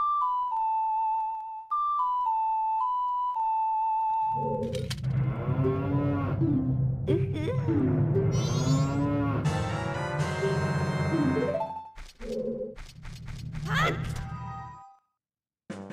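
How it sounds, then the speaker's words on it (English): Cattle moo repeatedly in an underground cow grotto in the video game Majora's Mask 3D, long drawn-out calls layered over a chiming melody, loud and close, with a few thumps between. "Why are the cows in the ground?"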